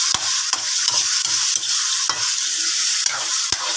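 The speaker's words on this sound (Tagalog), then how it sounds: "Yan, halo-haloin lang natin guys." A large wok of liver and gizzard chop suey is stirred with sharp, regular scraping strokes over a steady background sizzle. There are about eight distinct clanks, close and loud, and no voices.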